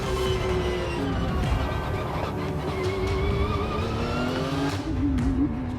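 A car driven fast around a race circuit gives a loud, continuous engine roar with rising and falling pitch as it accelerates and shifts, heard close and alone without speech.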